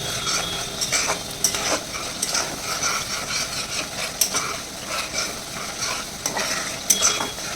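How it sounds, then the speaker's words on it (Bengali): Tomatoes sauté in a pan with a steady low sizzle, while a spatula stirs and scrapes in quick, repeated strokes close by. "এই কাঁচা টমেটো গন্ধটা চলে যাওয়া পর্যন্ত কষাবো"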